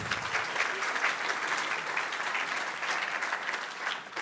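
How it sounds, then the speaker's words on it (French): Steady audience applause at a corporate council session, a dense clatter of many hands held at an even moderate level for the whole span. "que vous pouvez applaudir"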